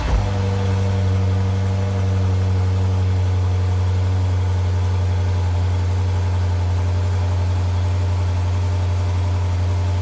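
A Lexus IS F engine runs steadily with a deep, bassy hum, close and continuous for the whole stretch, with no voices.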